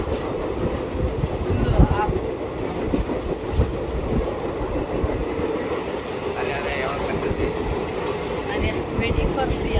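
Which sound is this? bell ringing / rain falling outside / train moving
train moving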